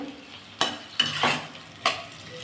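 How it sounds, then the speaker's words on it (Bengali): Soft sizzling of potatoes frying in a pan broken by three sharp scraping strokes of a utensil stirring, close and fairly quiet. "আমার আলু ভাজা হয়ে গেছে"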